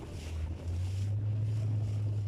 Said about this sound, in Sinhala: අපි දැන් මෙහා පාව යන්නේ බෝට්ටුවට නැග්ග තැනට.